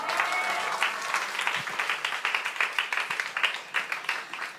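A church congregation at a Sunday evening worship service claps together, a lively burst of many hands that settles into rhythmic, slightly uneven pulses, moderately loud and close, with no talking over it.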